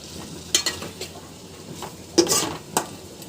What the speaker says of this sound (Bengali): মশলার সঙ্গে মাংসটা কিন্তু খুব সুন্দরভাবে মেশানো হয়ে গেছে।